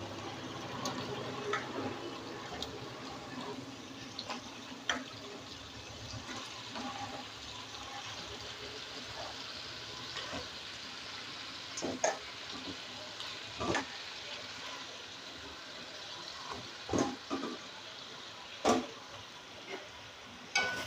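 Chicken pieces go into a hot pan of spiced masala for a Bengali chicken curry, giving a steady close sizzle and bubble, punctuated by occasional clinks and scrapes of a spoon against the pan.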